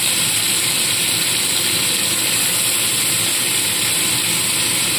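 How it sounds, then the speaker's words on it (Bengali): Squeezed cabbage and other vegetables for a veg momo filling land in hot oil, producing a loud, steady, unbroken hiss and sizzle that holds constant from start to finish, with no voices. "ভালো করে আরও জল চিপে আমি এই তেলের মধ্যে সবজিটা দিয়ে দিচ্ছি"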